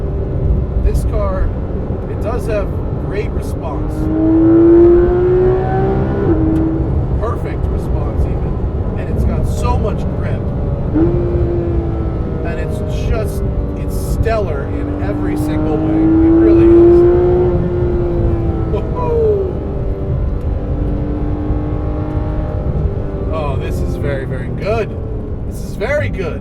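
A Porsche 991 GT3 RS engine revs and pulls hard through the gears, rising and falling in pitch as it accelerates, with someone talking over it.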